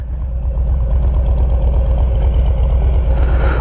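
A 2021 Harley-Davidson Street Bob 114 idles through deep-toned aftermarket exhaust pipes with baffles fitted, a loud, close, steady low rumble with a lopey pulse.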